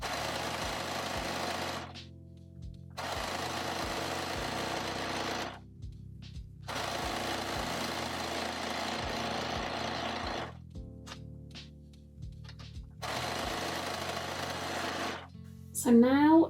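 Sewing machine stitching a dress lining to the main fabric, running in four long steady bursts separated by short pauses, close and fairly loud, with a brief voice at the very end.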